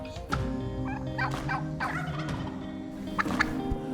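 Several wild turkey hens call nearby, with soft clucking putts and gobbling notes scattered over a steady outdoor background.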